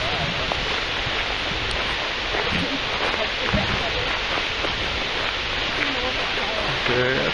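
Large waterfall in Iceland roaring as a steady broadband wash of falling water, loud and continuous from nearby, with people talking faintly underneath.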